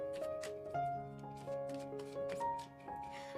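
Oracle cards from an energy oracle deck being shuffled by hand, a steady run of soft papery riffles and slaps over a faint sustained musical drone, with no talking.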